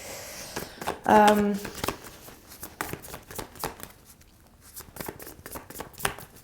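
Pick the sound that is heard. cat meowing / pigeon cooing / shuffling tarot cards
shuffling tarot cards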